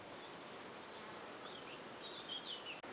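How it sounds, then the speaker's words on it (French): Honeybees swarming a flowering linden tree outdoors make a steady, diffuse hum that fills the air continuously, with faint higher insect or bird chirps drifting over it. "le bruissement des abeilles sur tout l'arbre est un indice que le tilleul est en floraison"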